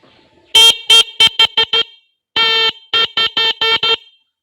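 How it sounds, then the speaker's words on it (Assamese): A loud electronic vehicle horn honks in rapid bursts: six short blasts, a brief pause, one longer blast, then five more quick ones. "যেতিয়া হৰ্ণ দিম তেতিয়া বাজিব"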